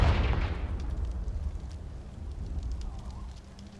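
A Confringo fire spell bursts in Hogwarts Legacy, a loud deep whoosh and rumble at the start that fades into a crackling, sputtering tail with small debris-like pops.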